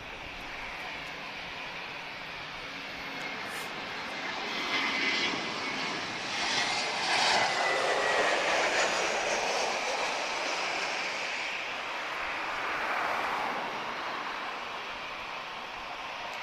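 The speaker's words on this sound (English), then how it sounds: "First generation A321 arriving from beautiful Porto." A first-generation Airbus A321 arriving at Lisbon Airport, its engine roar building to a broad, steady rush that swells in the middle and fades slightly, heard from a distance outdoors with no talking.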